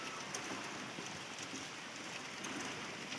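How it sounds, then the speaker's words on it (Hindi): Rain falls steadily on a village main road as a soft, even, continuous hiss of drops, faint and unbroken, with no voices over it. "ये है हमारे गांव के नज़ारा, देखिए। इधर ये मेन रोड है और ये देखिए बारिश हो रहा है"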